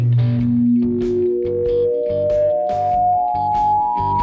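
Plucked strings ring out the harmonic series, each stopped note climbing higher in a smooth ascending run, with a sustained, echoey, slightly chorused tone and a steady pulse beneath, loud and without speech.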